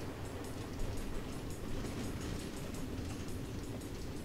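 An automated train runs along tracks through the Nether in the video game Minecraft Story Mode, giving a steady rolling rumble with faint repeating clicks of the wheels, continuous and alone without talk.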